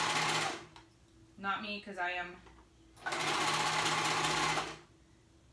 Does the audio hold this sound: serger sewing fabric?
yes